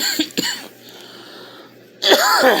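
A couple of sharp, harsh coughs up close, a quieter pause, then another loud burst of coughing at the end.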